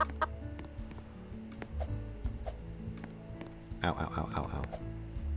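In the Roblox game Lumber Tycoon 2, a chicken axe produces game-style chicken clucking, a series of short clucks that builds into a louder burst near the end, mixed with other game sounds and a voice.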